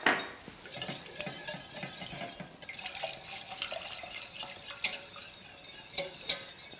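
A whisk works milk into a bechamel sauce in a pan, producing a continuous soft scraping and sloshing with small metallic ticks, close and fairly quiet, with no talking.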